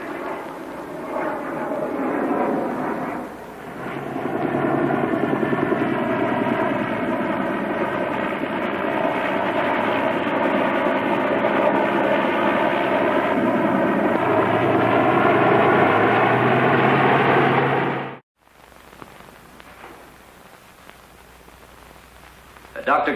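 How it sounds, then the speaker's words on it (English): A propeller plane circling overhead at 1000 feet drones loudly and steadily for a long stretch, then cuts off abruptly, leaving a quieter low rumble. "Circle wreckage at 1000 feet until arrival of helicopter rescue unit."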